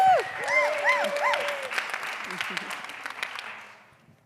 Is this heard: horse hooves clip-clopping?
no